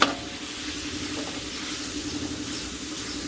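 Pork and onion stir-fried in a hot pan for an ear mushroom and fermented soybean dish, giving a steady, close sizzling hiss with soft stirring scrapes throughout and no talking.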